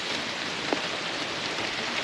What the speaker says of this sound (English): So it is definitely raining